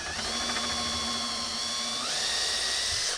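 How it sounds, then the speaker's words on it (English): A power drill spins a bit through a cabinet door with a backer piece held behind it, giving a steady high whine that rises in pitch partway through. The sound is close and continuous with no talking. "just let the drill bit do the cutting"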